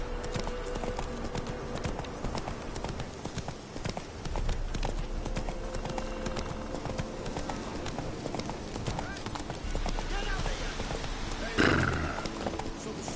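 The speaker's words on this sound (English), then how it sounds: "Time to water the horses." Rhythmic hoofbeats clop steadily with a horse whinnying near the end, amid ambient music and occasional voices in The Witcher 3: Wild Hunt.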